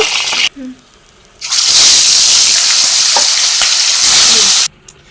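Katla fish fries in oil, with loud bursts of crackling sizzle that swell and cut off between short quiet gaps where a voice briefly speaks.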